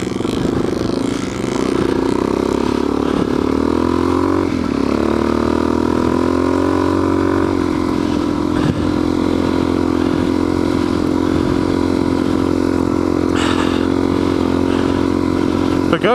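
A dirt bike engine runs steadily at high revs while riding through sand in New Mexico, a loud, close, continuous drone with slight shifts in pitch and wind rumble.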